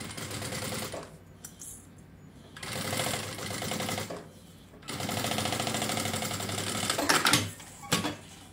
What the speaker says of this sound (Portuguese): E aí é só vir e fazer uma costura bem na beiradinha, só pra segurar.